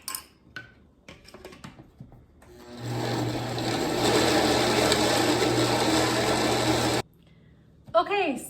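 A blender purees peach and mango fruit for about four seconds, a loud steady whirring whine, preceded by clinks and handling noises and followed by a short voice.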